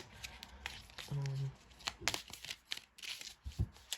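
Tarot cards being shuffled by hand: a short run of soft papery riffles and rustles, quiet and close, with a brief tonal blip and scattered clicks.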